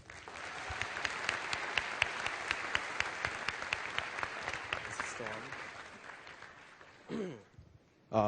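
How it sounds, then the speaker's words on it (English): A graduation audience applauds the Class of 2015 salutatorian at Seoul American High School, a dense, steady wash of clapping for about seven seconds that fades out, followed by a brief voice at the end. "please give a warm round of applause for Class of 2015's salutatorian"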